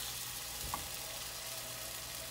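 Chicken breast frying in a pan over high heat, a steady close sizzle with one brief stir-like clatter partway through; no talking.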